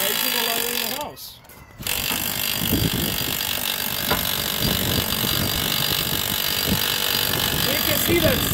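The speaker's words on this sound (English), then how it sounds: "We're just going to use a nice 18 volt or larger drill." An 18 volt cordless drill turns a ratcheting winch raising an attic ladder inside a house, a steady mechanical whir with clicking and creaking throughout after a brief dip near the start.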